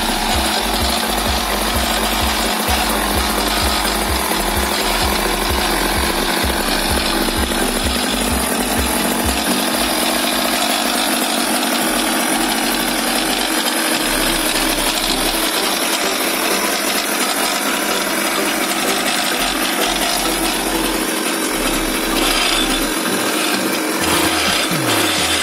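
A custom 50cc two-stroke goped engine runs through its exhaust, a loud, raspy, continuous buzz with rapid low popping pulses in the first half that fade as the revs hold steady.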